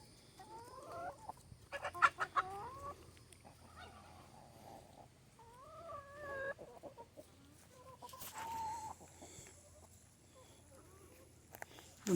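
Chickens cluck and squawk in a backyard coop on an organic vegetable farm, scattered close calls rising and falling over quiet outdoor background.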